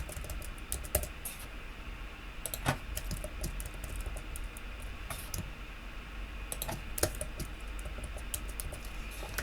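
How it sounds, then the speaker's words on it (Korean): Computer keyboard keys pressed while working in Photoshop: sparse, soft clicks and taps scattered irregularly over a low steady hum, with a few slightly louder key strikes and no speech. "옵션 시프트 키를 눌러서 엔터를 쳐주시고요"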